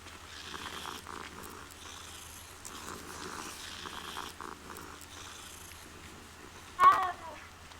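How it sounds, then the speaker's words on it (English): A cat in the Hogwarts Legacy video game purrs softly and continuously, then gives one short, louder meow near the end. "Aw, cat."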